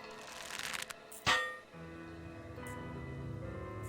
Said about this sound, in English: once you hear that clunk sound, that's the sound of the hook hitting the box